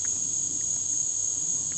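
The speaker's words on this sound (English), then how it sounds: "if you hear this frequency, it sounds like cicadas" A steady, piercing high-pitched buzz like cicadas drones continuously without pause, fairly loud, with a few faint soft ticks underneath and no voices.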